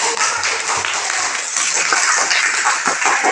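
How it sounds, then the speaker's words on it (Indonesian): Primary school pupils clapping hands in a classroom, a brisk, fairly loud patter of many small hands that keeps going for a few seconds, with faint voices mixed underneath. "Oke, tepuk tangan dulu."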